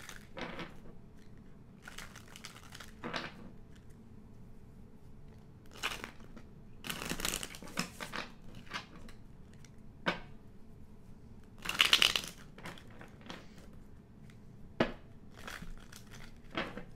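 A deck of tarot cards is shuffled close by in short, separate bursts of riffling and crisp rustling, with quiet pauses in between.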